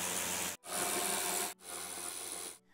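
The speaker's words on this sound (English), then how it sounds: "Take your 10 millimeter socket, you're gonna remove this bolt" A socket wrench with a 10 millimeter socket ratchets out the bolts holding a vehicle's tail light: three close, steady bursts of rapid grinding clicks, each about a second long, with short pauses between.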